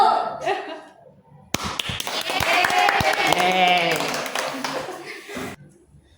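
Students in a madrasah classroom clap together in a dense burst of applause lasting several seconds, with cheering and voices mixed in. A teacher speaks before and after it.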